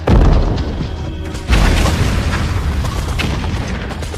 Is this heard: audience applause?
no